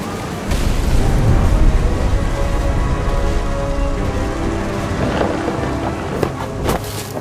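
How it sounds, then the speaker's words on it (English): Storm in What Remains of Edith Finch: steady wind and rain roar, with a few sharp cracks near the end that may be thunder, no voices. "The thunder sounded much too close and full of angry power"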